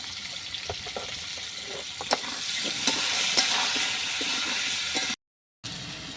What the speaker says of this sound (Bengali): আলুগুলো ভাজার সময় আমি পরিমাণ মতো নুন দিয়ে দিচ্ছি